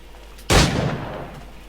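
A single flintlock-style firearm shot in Assassin's Creed IV Black Flag, a sharp, loud bang with a booming low end that decays into a short echoing tail, no voices.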